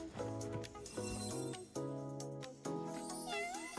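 A cartoonish cat meows several times in a video game, short repeated calls with bright clinking tones in between, loud and close with no talk over them.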